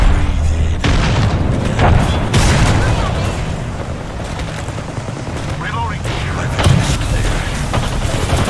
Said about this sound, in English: Archdog, incoming grenade.